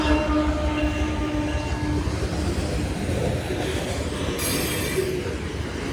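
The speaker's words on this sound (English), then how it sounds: "Eastbound grain train, which I do believe." An eastbound grain freight train led by CP and KCS locomotives rumbles steadily past the Boone Ave crossing in New Hope, Minnesota, with wheel noise, faint squeals and a brief high screech near the end.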